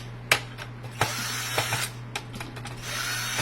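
Screws being backed out of a Ford Sync 3 radio module from a 2019 F150 Raptor: a few sharp ratcheting clicks and small metallic ticks spaced irregularly, close and moderately loud over a steady low hum, no talking.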